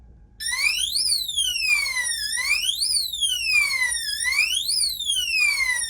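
Electronic alarm of a Blacksmith SF-0106 biometric six-rifle security cabinet: a loud, close warbling siren tone sweeping up and down in steady repeated cycles, alone with no talk.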